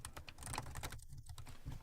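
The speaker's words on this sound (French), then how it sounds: "je suis déjà sûr que c'est à une taille où la frappe devrait être assez confortable" Fast, steady key clicks come from typing on the keyboard of a Lenovo Idea Tab Plus 12.1 Matte Edition tablet, recorded close up with no talking.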